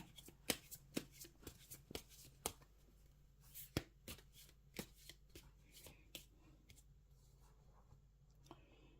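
Gypsy fortune-telling cards are shuffled and cut by hand in a quiet room, with a close series of crisp, irregular riffles, slaps and flicks spread across the whole stretch, some sharper than others.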